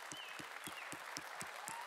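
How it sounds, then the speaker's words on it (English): Applause from a congregation honoring mothers during a church service, steady clapping from a crowd heard at a distance, fairly faint but continuous, with regular low thumps beneath it. "Let's give them a big round of applause, you guys."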